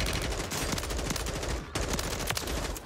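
Sustained rapid automatic fire from an M4 rifle in the shooter game Warzone 3, loud and dense across the whole stretch with only a brief break near the middle.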